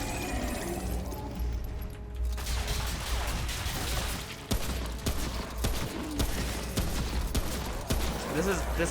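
A gunner enemy in Remnant: From the Ashes lays down dense, rapid gunfire, loud and close, with sharp impact cracks and clattering mechanical noise throughout the burst.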